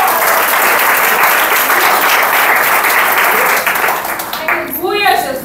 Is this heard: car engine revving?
no